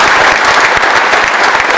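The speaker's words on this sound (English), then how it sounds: "And I really think that that in itself merits a round of applause." A round of applause rings out at a Donegal GAA dinner dance, loud, close and sustained clapping with no talk over it.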